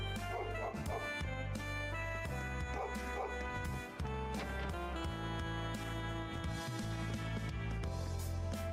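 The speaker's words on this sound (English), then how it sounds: "Puppy." Dog barking in the video game Cold Steel 3, short yips and barks set over loud, continuous game background music.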